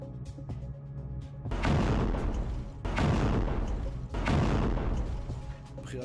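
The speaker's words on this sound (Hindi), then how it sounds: "धमाके सुने गए।" Three loud, deep booms from rocket attacks over northern Israel hit at spaced intervals, each roaring and rumbling out slowly, with a quieter background hum between them.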